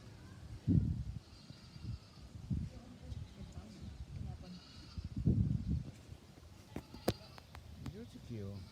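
Sheep at the Utica Zoo in New York bleat a few times in short, moderately loud calls, with people talking nearby over the low murmur of the visitor area.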